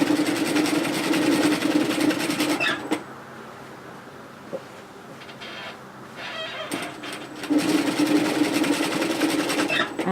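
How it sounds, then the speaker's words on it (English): A sewing machine runs a line of stitching along a hoodie's split hem, humming steadily and close, then going quiet for a few seconds before starting up again. "so I'm actually going to sew a line of stitching on this side here."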